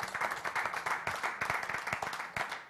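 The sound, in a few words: audience applause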